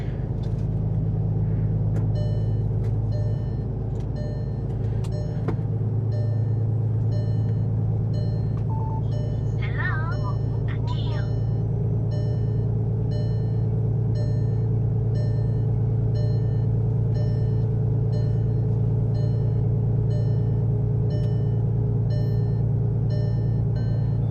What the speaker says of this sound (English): it's an electric truck, Chinese made electric truck